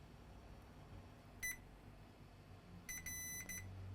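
A multimeter set to continuity mode gives high, thin electronic beeps: one short beep, then a quick cluster of several more a second and a half later, faint and close over a quiet room hum.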